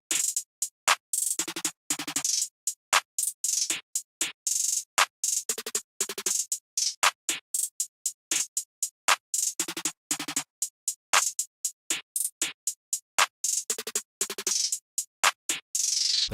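A flare snare from a drum kit plays a simple beat pattern, with crisp, bright hits in quick rhythmic clusters separated by short gaps, loud and alone.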